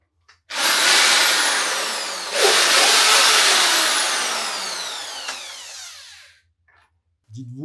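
A power drill straining against a reinforced concrete ceiling, a loud, sustained high whine with a restart partway through, then stopping abruptly, with no talk.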